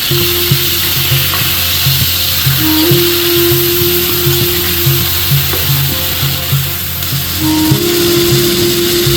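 Ginger garlic paste sizzling loudly in a pan with browned onions, a steady close frying hiss with a low rhythmic hum beneath it throughout.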